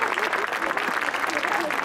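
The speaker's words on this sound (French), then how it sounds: "Vous applaudissez Nina Balvet" Audience applause at an outdoor show jumping prize ceremony, steady clapping from a crowd lasting throughout, with an announcer's voice speaking over it.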